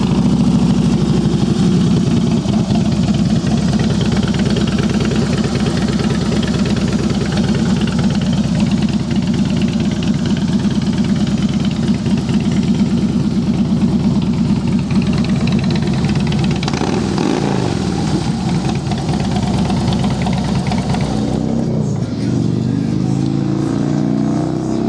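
A Harley-Davidson Heritage Softail Classic FLSTC motorcycle with about 42,500 miles idles close by, its V-twin engine giving a loud, steady, lumpy rumble that continues throughout with slight changes toward the end.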